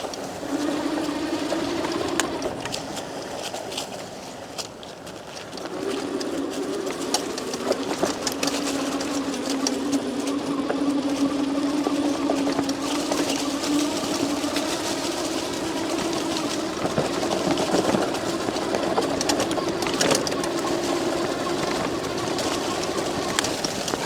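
The electric motor of a HiKNiGHT H2 Pro off-road e-bike whines steadily under load while riding on rough terrain, a continuous close hum with small pitch shifts and rattling over background noise.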